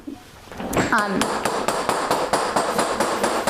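Cross peen hammer striking a workpiece in a studio, a steady run of sharp metallic blows after a brief opening scrape, about eight evenly spaced hits, close and loud with bright ringing.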